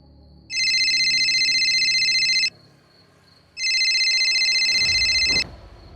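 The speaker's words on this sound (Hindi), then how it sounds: "उन्होंने राजन को फोन मिलाया।" A telephone rings twice with bright electronic trills, each lasting about two seconds, separated by a short pause in a quiet room.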